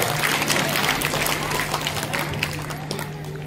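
A seated audience at a Basava religious discourse in a monastery courtyard applauds in a dense, steady wash of claps, with a low constant hum running underneath the whole time.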